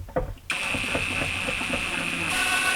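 Screws being driven slowly into a plastic feeder assembly, a steady mechanical ratcheting whir close up, running continuously after a brief quiet start.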